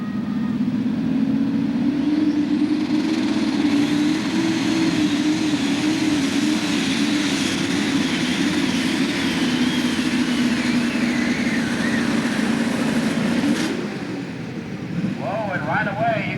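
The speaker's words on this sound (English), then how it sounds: "the turbochargers there on that left engine are giving him a hard time" A turbocharged Pro Stock pulling tractor roars loud and sustained at a tractor pull, its heavy engine drone and turbo whine holding steady before easing slightly near the end, with faint talk over it.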